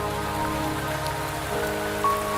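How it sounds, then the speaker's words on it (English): Rain in the video game Wuthering Waves, a steady even patter on surfaces with a faint tonal hum underneath, continuous and with no voices. "Don't worry, the rain won't last much longer."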